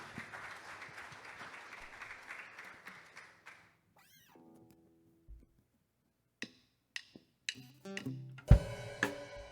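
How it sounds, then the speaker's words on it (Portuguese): A church congregation applauds during a family worship service, a dense burst of clapping that tapers off within a few seconds, followed by near silence and then scattered knocks and clicks. "Pode aplaudir ao Senhor"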